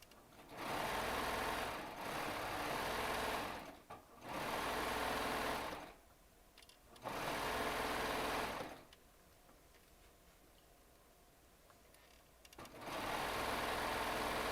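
A Baby Lock Triumph serger stitching a quilt runs in long loud bursts of steady high-speed whirring, stopping briefly between runs and then starting again, with no talking.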